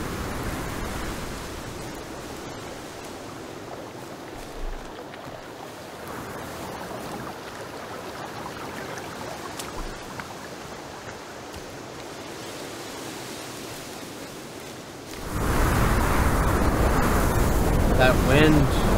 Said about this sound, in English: the wind is nuts. And it's way loud.